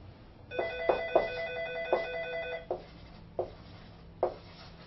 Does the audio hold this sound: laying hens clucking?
no